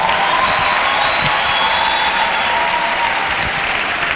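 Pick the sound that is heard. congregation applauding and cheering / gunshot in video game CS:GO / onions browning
congregation applauding and cheering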